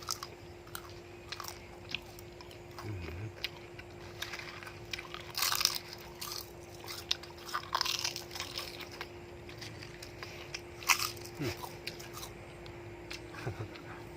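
Crispy fried pork intestine and skin are bitten and chewed close up, giving repeated sharp crunches and crackles in irregular bursts over a quiet steady hum.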